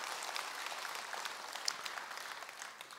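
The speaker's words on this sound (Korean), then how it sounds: "다시 한번 합창단한테 박수 한번 쳐주십시오" An audience claps steadily for a choir at a Sunday Buddhist dharma service in a temple hall, a dense even wash of applause throughout with no talking.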